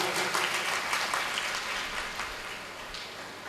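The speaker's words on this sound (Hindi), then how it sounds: "इनका जोरदार तालियों से स्वागत कीजिएगा।" A gathering at a devotional Bhagavat Katha event claps warmly to welcome a guest, a dense, even wash of applause at moderate volume lasting throughout.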